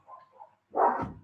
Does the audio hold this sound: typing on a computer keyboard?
no